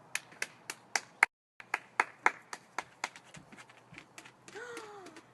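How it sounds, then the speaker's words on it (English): A short run of sharp, evenly spaced hand claps, close and fairly crisp, comes during a chemistry class skit about ozone gas, ending with a brief voice-like sound. "Can we have a round of applause for Mr. Ozone, please?"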